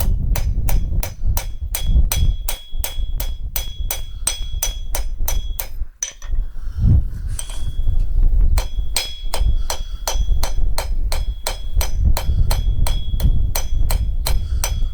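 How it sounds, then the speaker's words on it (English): Rapid, evenly spaced metallic hammer blows strike a chisel cutting lines into forged metal, ringing bright and close, pausing briefly midway before the steady tapping resumes. "Hammer in some lines."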